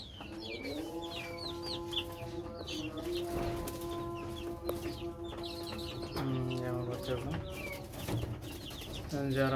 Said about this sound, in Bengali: এগুলো আবার আমার ছোটো মুরগি।